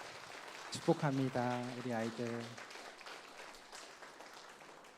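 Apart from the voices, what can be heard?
congregation applauding the children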